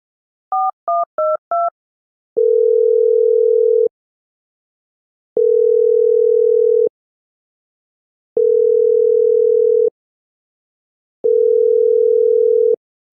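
A phone call goes unanswered in a school simulator game: four quick dialing tones, then a steady electronic ringback tone repeating four times with even pauses, loud and clean with no voices.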